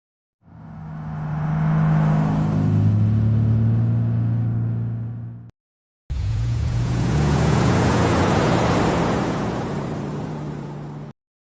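A truck in an AI-generated scene rumbles past twice in two separate bursts, each a loud, broad roar that swells and then fades, with a brief silence between them.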